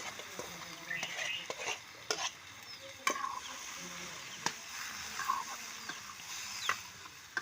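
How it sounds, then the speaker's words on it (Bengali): Village-style cooking of desi chicken, the meat pieces sizzling in hot oil while being stirred with a spoon, steady frying hiss with scraping clicks and occasional sharp pops, moderately close. "এই তো গোস্তগুলো হচ্ছে তেলের মধ্যে দিয়ে দিল আম্মু।"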